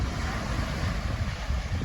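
Strong wind buffets the microphone on Castaway Cay beach on a cold, blustery day, with ocean surf washing underneath in a constant, fairly loud roar and no one speaking.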